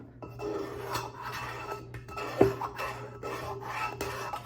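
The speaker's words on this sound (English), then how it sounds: "So something that I found that was very interesting was scraping the cup." A cup being scraped with a rough, rasping texture: repeated soft scraping strokes at close range, with one sharper scrape near the middle, and no voices.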